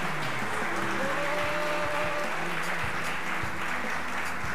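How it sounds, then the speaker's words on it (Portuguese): Congregation clapping at a church service, a continuous busy roar of hands that fills the whole span, with low tonal sounds, likely music or voices, underneath. "Pode aplaudir o Senhor Jesus aí?"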